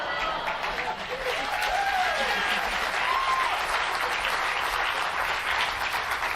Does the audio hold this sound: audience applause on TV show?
yes